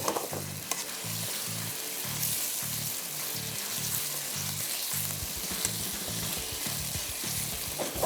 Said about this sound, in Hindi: चिकन कढ़ाई हमेशा तेज़ आंच पे ही पकती है